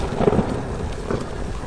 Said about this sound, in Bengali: আকাশে তখন বিদ্যুৎ চমকাচ্ছে, জোরে হাওয়া দিচ্ছে